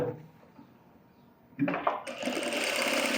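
A sewing machine starts edge-stitching a blouse after a quiet pause, a rapid whirring run of stitches that begins abruptly and continues steadily to the end.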